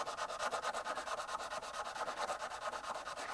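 Sanding a Ruger RXM pistol part by hand with 240 grit sandpaper, close and quiet, in quick regular back-and-forth strokes with a steady scratchy rasp.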